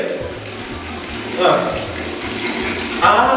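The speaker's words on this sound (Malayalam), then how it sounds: "വെള്ളം ഒഴിക്കേ." Water poured during a child's and pet's bath time, splashing in two brief louder gushes over a steady low background hum.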